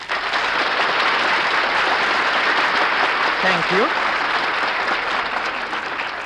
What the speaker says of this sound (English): will you please stop applauding these guys?